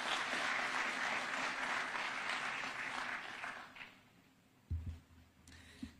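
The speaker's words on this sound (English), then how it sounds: "Let's welcome her with a clap." An audience claps steadily to welcome a guest speaker at a formal event in Kenya, the applause fading out after about four seconds, followed by a few scattered thumps and a quiet room.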